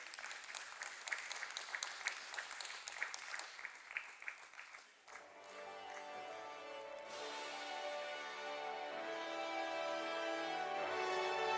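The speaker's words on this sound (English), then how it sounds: "A big round of applause, everybody." Applause at an investment and global affairs conference, scattered clapping at first that gives way to a swell of stage music building under it, all fairly faint.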